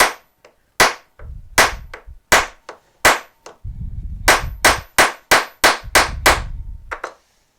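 Epoxy-glued wooden knife handle struck about a dozen times, sharp loud impact cracks in an irregular rhythm, some followed by low rumbling resonance, close up and without talking.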